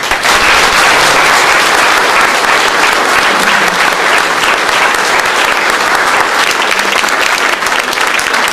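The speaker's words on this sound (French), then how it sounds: "vous pouvez l'applaudir" A ceremony audience applauds a newly named knight of the Legion of Honour, honouring Daniel Gaudard: dense, loud, sustained clapping fills the room steadily with no pause.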